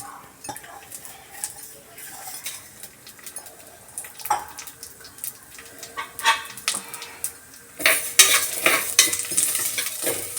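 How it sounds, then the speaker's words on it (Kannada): Moong dal fries in a spoonful of ghee while a spoon stirs and scrapes the pan, giving irregular metallic clinks over a soft sizzle that grows louder and hissier near the end. "ಈಗ ಇದನ್ನು ಸ್ವಲ್ಪ ಒಂದು ಸ್ಪೂನ್ ತುಪ್ಪ ಹಾಕಿದ್ದೀನಿ ಫ್ರೈ ಮಾಡ್ಕೊತೀನಿ"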